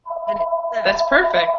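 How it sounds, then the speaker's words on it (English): A telephone rings steadily in the background, a sustained electronic ringing tone running throughout while a person talks over it. "I'm sorry about the phone,"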